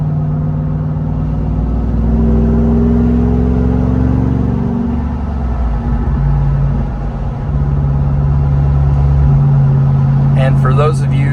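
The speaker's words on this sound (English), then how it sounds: "for those of you that don't enjoy the sound of the rumble, I'll put it back in standard mode" A Jeep Wrangler Rubicon 392 engine gives a deep, steady rumble while driving winter backroads. The low drone rises and falls slightly with throttle, and a few faint clicks come near the end.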